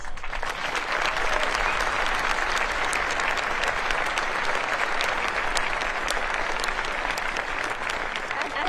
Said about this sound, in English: please join me in giving them a heartfelt round of applause